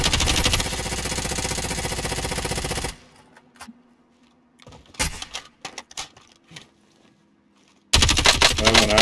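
Video game gunfire from Call of Duty Modern Warfare, with dense rapid automatic bursts at the start and end and scattered loud single shots in between, set against a quieter stretch.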